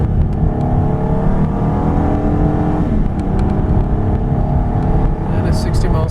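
A 2016 Honda Odyssey Special Edition minivan accelerates to 60 mph at about three-quarter throttle. Its engine drone stays steady and fairly loud from inside the cabin, with a smooth rising pitch and no other sounds on top.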